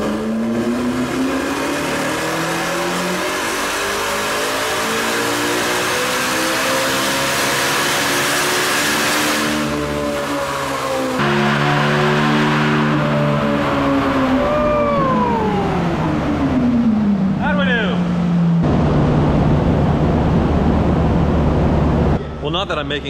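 A Ferrari 458 with 88,000 miles and a wrecked, abused past revs hard on a dyno run in third gear, its loud engine note sweeping steadily upward, dropping, then climbing again and cutting off near the end.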